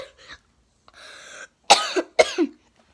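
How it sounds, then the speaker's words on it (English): A person coughs twice in two sharp, close bursts, preceded by softer throat-clearing sounds, with no talking. "I feel like I haven't coughed in, like, 3 months."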